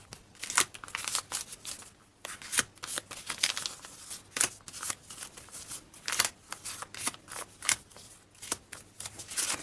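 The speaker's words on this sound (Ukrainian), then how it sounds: "І ось все наші пакетики на розпаковочку." Rapid bursts of crisp crinkling and ripping, like foil packets being torn open one after another, close up with brief pauses between.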